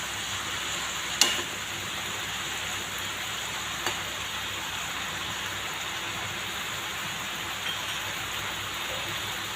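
Dhekia fern greens fry with turmeric and salt in a pan while being stirred: a constant close sizzling hiss, with a few sharp utensil clicks scattered through it.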